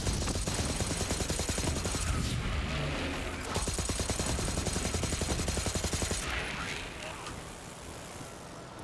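A Vladoff pistol fires in Borderlands 3 in rapid, sustained bursts of sharp repeated shots, with a short pause between volleys and other game sounds mixed in.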